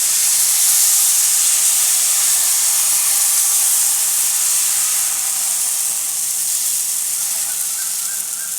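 Cheesy dosa batter sizzles on a hot oiled pan, a loud, continuous hissing fry that holds steady throughout with no voices over it.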